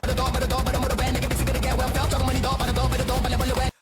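Rapid bursts of gunfire-like hits punch through a dense, loud music track, rattling off in a quick continuous stream.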